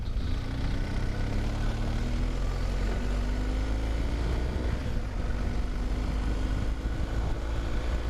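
Steady engine drone of a 2021 BMW R 1250 GS Adventure motorcycle riding on the road, a continuous loud low rumble with wind noise and rising pitch tones across the whole stretch, no voices.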